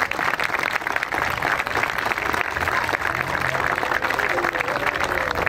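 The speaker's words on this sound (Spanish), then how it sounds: "así que ahí el Leo pide un aplauso para todo Espacio Verdes." Outdoor crowd applause at a plaza inauguration, loud sustained clapping from a large gathering, with voices mixed faintly underneath.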